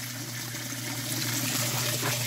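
Water splashes and churns continuously inside a beekeeping sugar-water mixing machine, a steady, bright rushing and spattering sound at moderate loudness with no talk.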